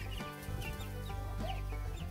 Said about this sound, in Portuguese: olha os pintinhos